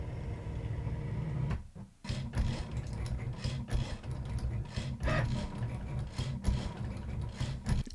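Cricut machine cutting card: close, steady mechanical whirring and ratcheting with gear-like clicks and rubbing, running continuously with a brief pause near two seconds, no talk.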